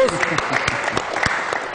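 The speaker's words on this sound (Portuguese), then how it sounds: "Já recebemos aplausos." Applause from an audience at a Brazilian public talk on procurement law, sparse claps over a constant crowd murmur with voices talking through it, fairly close and moderately loud.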